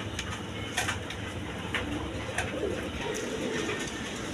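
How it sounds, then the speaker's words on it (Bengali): Big, high-quality pigeons cooing close by, soft repeated low coos over a busy background with intermittent sharp clicks and knocks. "একদম বিগ সাইজের কোয়ালিটি সম্পন্ন কবুতর"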